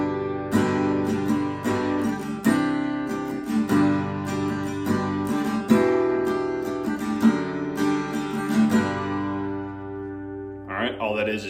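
Acoustic guitar plays a simplified version of the harmonica part from a song, strumming a steady run of ringing chords for about ten seconds before a brief quiet, rustling tail.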